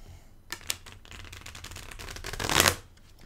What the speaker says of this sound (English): they do shuffle, they're not overly thick, so that the cards do actually go together